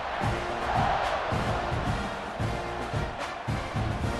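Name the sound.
crowd cheering in American football video game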